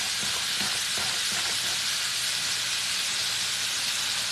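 Chicken livers deep frying in a skillet give off a steady, loud broadband sizzle and hiss with faint bubbling crackles, continuous throughout with no talking.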